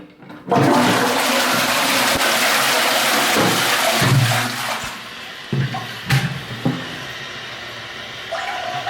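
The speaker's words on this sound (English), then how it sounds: "Test out the toilet, make sure nothing is leaking. and everything flushes correctly." A newly installed toilet cistern flushes loudly up close, a strong rushing surge of water that tails off into gurgling and trickling refill sounds with a few knocks.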